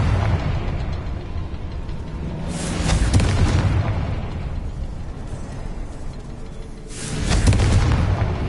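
A Confringo spell blast in Hogwarts Legacy sounds as a heavy booming explosion, followed a few seconds later by a second burst over a steady low rumble of game ambience.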